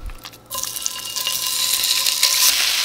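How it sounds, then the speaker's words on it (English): Beef hitting a hot pan for a quick sear, bursting into a loud, steady sizzle after a brief quiet start and holding close and bright to the end, with no talking. "now we sear our beef"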